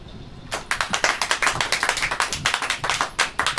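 Church congregation clapping hands together in a brisk, steady rhythm that begins abruptly after a quiet moment and continues evenly, close and loud, with no talking.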